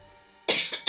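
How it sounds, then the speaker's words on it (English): A person coughs a few times up close, one sharp cough followed by two shorter ones within a second, after a quiet start. "Of course, the minute you want to start recording yourself is the only time you start coughing."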